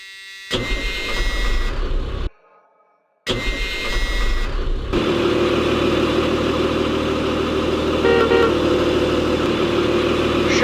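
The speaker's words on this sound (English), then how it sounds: "we're going to go ahead and start the bus and do the same thing as we did with the Thomas" A Freightliner FS-65 school bus engine in the Rigs of Rods driving game cranks with a loud burst, cuts out briefly, then catches and settles into a steady, close, droning idle with faint warning buzzer tones.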